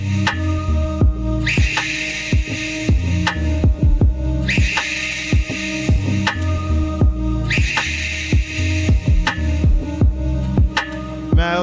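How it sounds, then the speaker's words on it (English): A monkey call pitched up and drenched in reverb repeats in loud bursts over a steady musical beat, with no one talking. "We just pitched up the monkey sound, added some reverb to it."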